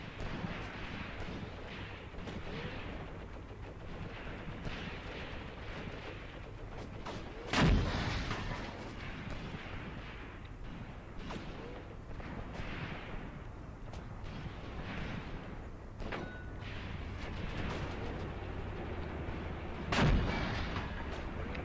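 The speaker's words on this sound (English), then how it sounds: "Oh, that was a direct hit on the T-34. It's a detract at the least. Might have been the howitzer as well." Artillery and howitzer fire in the tank battle game Graviteam Tactics, set at Kharkov in 1942, with two sharp, booming shots several seconds apart over a steady low rumble of battle noise.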